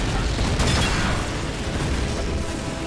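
Grenade explosion in Call of Duty 2, a loud, broad blast that swells early and then lingers as a rumbling roar slowly fading.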